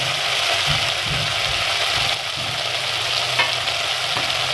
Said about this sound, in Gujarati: તેને આપણે આ રીતે તેલમાં જ આ રીતે મિક્સ કરવાની છે તેલમાં જ પકાવવાની છે